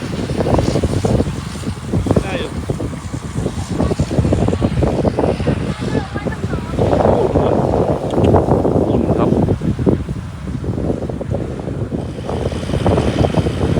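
Wind gusts across a rice field at harvest, a steady, loud, rough rush that buffets the microphone throughout without pause.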